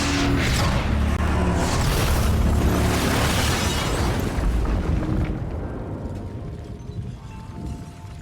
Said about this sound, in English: the heroic Mike will sacrifice himself by blowing up the lodge with the Wendigos inside